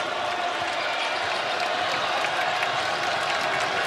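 Arena crowd noise at a college basketball game, a steady broad roar of cheering fans rising in excitement, loud and continuous throughout with no clear individual voices.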